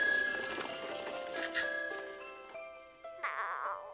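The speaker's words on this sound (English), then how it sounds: "waving and ringing her bicycle bell" A child's tricycle bell rings in a playground setting, several bright metallic dings with ringing overtones that fade between strikes, fairly close and clear with no talk over them.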